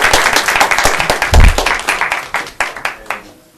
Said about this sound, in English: If I could have a nice round of applause for the speakers.